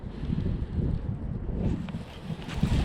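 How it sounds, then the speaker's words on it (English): Wind gusts across a winter lake during bass fishing, a steady low rumbling buffet against the microphone that swells and eases, with faint water sounds underneath. "today I got the wind blowing back in here"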